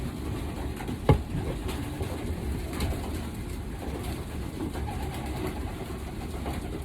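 Pigeon hens cooing inside a breeding loft, with low murmuring coos that run steadily under a faint background hum and one brief knock near the start, nearby and without talk.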